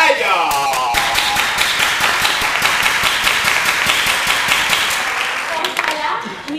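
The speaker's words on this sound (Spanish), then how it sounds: "fuerte el aplauso para ellos" Theatre audience applause, a crowd clapping steadily and loudly with distinct hand claps throughout, voices faintly mixed in beneath.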